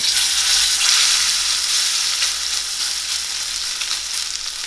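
A tempered, salted New York strip steak sizzles steadily in a pan over medium-high heat, a loud, continuous frying hiss with no talking.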